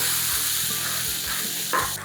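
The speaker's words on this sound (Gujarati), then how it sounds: "હવે આમાં જરૂર પ્રમાણે પાણી એડ કરવાનું છે" Thick Gujarati kadhi sizzles steadily in a pan as water is added, with soft stirring scrapes and a brief splash near the end, fairly close and without voices.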